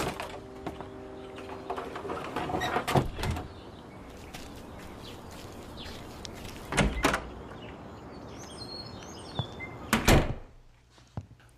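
Cellar door effect for a radio drama: a handle rattles and the door creaks open, quiet shuffling follows, then a solid thump as it shuts and a final close bang.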